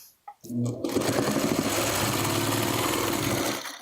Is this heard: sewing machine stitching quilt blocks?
yes